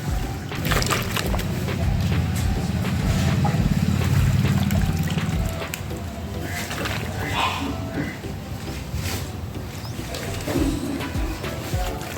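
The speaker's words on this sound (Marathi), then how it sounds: "आणि आता चिप्स टाकून घेऊयात आपण" Potato chips (wafers) dropped into hot oil bubble and sizzle with a steady, dense frying hiss that stays loud and close throughout, easing slightly in the second half.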